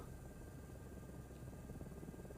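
A helicopter flying in Flight Simulator 2024 gives a steady, even rotor and engine drone that holds constant throughout at moderate level.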